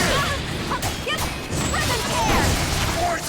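A guard-breaking smash from a fighting video game lands amid dense, loud game effects of crashes and swooshes that overlap continuously.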